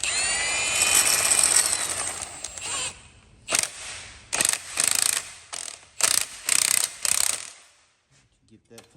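Repeated bursts of a ratchet wrench tightening bolts on a Jeep Cherokee SRT engine, about seven short clicking runs in quick succession after a stretch of metallic rattling, fairly close and moderately loud with no talk.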